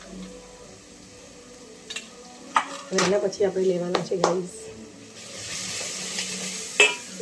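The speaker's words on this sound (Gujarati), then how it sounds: "જો આ મસાલા બતાવું છું, મસાલા શેકાય છે." Ground spices, including turmeric, garam masala and coriander-cumin powder, roast in a hot pan with a soft sizzle and scraping stirs of a spoon, while someone talks over it.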